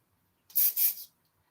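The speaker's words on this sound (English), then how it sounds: "So I like to just kind of spray that as I go." Hairspray hisses onto curled hair in a holiday updo, two quick close bursts about a second long in total, in an otherwise quiet room.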